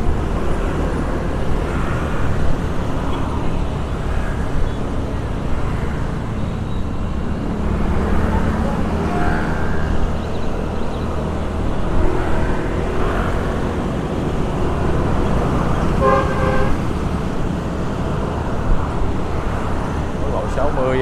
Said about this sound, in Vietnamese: Quốc lộ 60 xe cộ lưu thông khá là tấp nập nha.